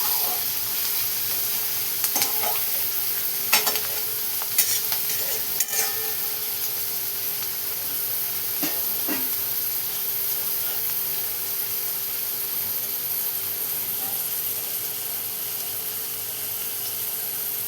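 Onion, leaves and garlic stir-fried in a pan for a shev bhaji, with a steady close sizzle and scattered scraping taps from stirring throughout, and no talk.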